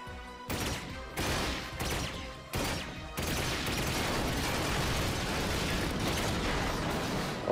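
Rapid gunfire and blasts from the Ratchet and Clank video game, loud and dense, coming in short bursts at first and then merging into a sustained barrage of shots.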